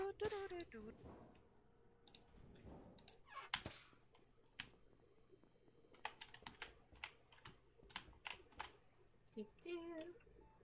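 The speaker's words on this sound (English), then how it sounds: "I heard your keyboard." Typing on a computer keyboard heard close up: irregular bursts of sharp key clicks and clacks, with a few brief vocal sounds mixed in.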